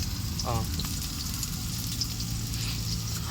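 Onions and curry leaves frying in a pan over a wood-fired stove, a continuous sizzle with a low crackling rumble and a faint voice in the background.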